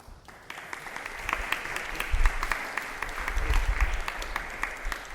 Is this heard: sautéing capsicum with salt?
no